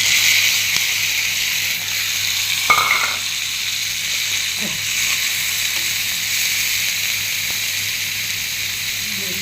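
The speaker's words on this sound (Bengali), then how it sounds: "চিংড়ি মাছ দিয়ে বাটার দিয়ে ভাজছি" Prawns fry in butter in a pan with a steady, close sizzle and occasional stirring clinks and scrapes throughout.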